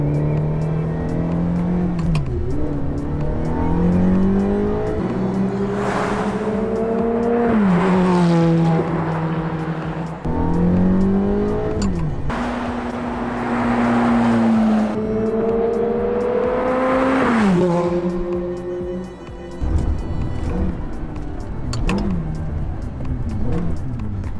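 A Ferrari F430 with a gated manual transmission drives and revs hard, its engine rising through several gears with sharp pauses at each shift, loud and close throughout.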